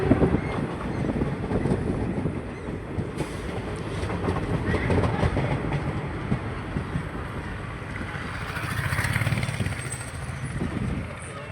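Bhuj to Rajkot special train running non-stop, a steady loud rumble of rolling wheels with clickety-clack rhythm throughout, close and continuous with no talk.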